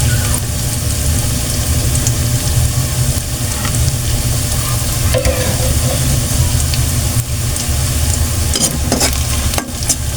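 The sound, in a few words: sautéing cabbage with sardines until golden brown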